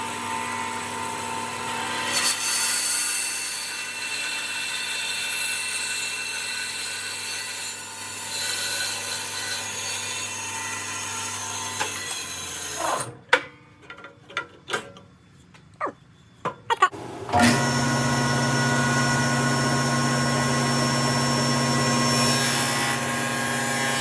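Steady, droning whine of a bandsaw cutting wood for a Montessori house bed, running close and loud, cutting out briefly into scattered knocks and clatter before the motor resumes its hum.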